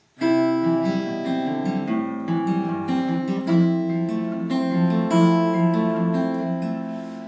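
An acoustic guitar plays the intro of a song (live version), steady strummed and picked full chords ringing with melodic movement, clear and close with no voices.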